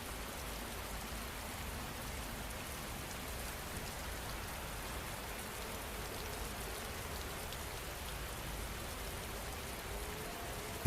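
Steady, even rain falls and patters on surfaces as a dense, unbroken hiss that stays at the same level throughout, with no voices.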